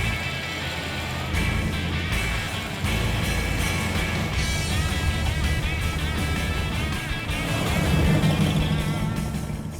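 Barris Kustoms Rod & Custom Dream Truck cruising down a road, its engine a steady close drone with road roar, swelling slightly toward the end as it picks up.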